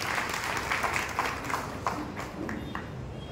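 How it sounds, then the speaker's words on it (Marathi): Steady applause from an audience at a Diwali special-issue book launch ceremony in Dhule, with sharp claps running continuously and fairly close. "त्यांच्यासाठी एकदा मोठ्या टाळ्या."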